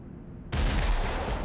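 Sustained burst of gunfire from units shooting in the Warhammer 40k Armageddon video game, starting abruptly partway through and continuing loud and dense to the end.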